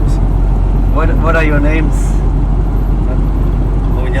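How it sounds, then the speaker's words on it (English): Steady road and engine noise from a car transporter truck on the move, a constant low drone with a brief higher hiss, under people talking nearby. "I got picked up by this car transporter"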